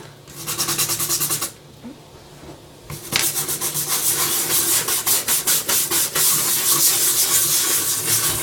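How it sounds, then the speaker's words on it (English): A wet brush scrubs Clean and Safe cleaner into a surface with loud, close back-and-forth strokes, a short burst, a brief pause, then a longer fast rhythmic run of scrubbing. "I'm just going to scrub that in"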